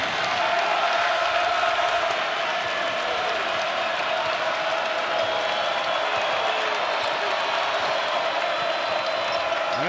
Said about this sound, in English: That gets the Frogs crowd into this.